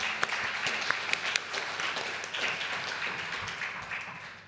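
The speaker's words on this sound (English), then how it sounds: "can we give them just a quick round of applause for giving our time?" Audience applause after a conference panel, a steady wash of many hands clapping at moderate distance, with a few sharper claps standing out and slowly thinning toward the end.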